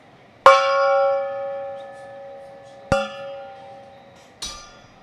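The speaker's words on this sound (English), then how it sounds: "Big gong for that guy." Three metallic strikes of a gong celebrating a home run at a Dodgers vs Braves game, each a sharp hit followed by a long ringing decay, the first loudest and the later two progressively softer.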